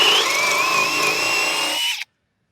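A power drill spins a bit into wood, a steady, loud high whine held for about two seconds before cutting off abruptly into silence.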